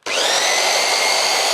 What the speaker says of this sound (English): And now the belt sander.